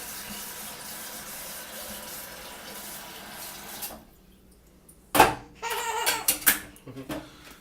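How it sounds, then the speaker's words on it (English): Water runs into a teapot with a soft steady rush, then stops; after a short quiet come clinks and a few faint voices and laughs. "you take your teapot and you heat it up with, you fill it up with water as much as it'll go"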